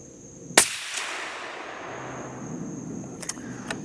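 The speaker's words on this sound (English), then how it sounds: "So that's 6 shots down range." A single SAKO M10 sniper rifle shot fired down range on an outdoor range cracks sharply and rings out in a long fading echo, followed a few seconds later by faint clicks.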